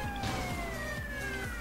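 Police siren in the video game GTA Vice City, a steady wailing tone sustained throughout the short stretch, at moderate level with no talk over it.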